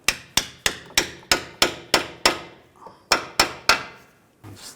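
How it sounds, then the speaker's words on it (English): A hammer striking the front lower control arm with ball joint on a 2011-2017 Nissan Juke, about a dozen sharp metallic blows in a steady rhythm with a brief pause, close and ringing. "Just tap on the control arm."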